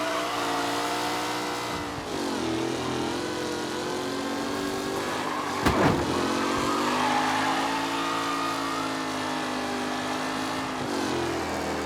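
Race cars on the final lap in Mafia Definitive Edition, with a loud, continuous layered engine drone that shifts in pitch as they accelerate, and a sharp bang around the middle.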